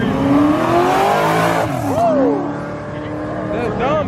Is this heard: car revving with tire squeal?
yes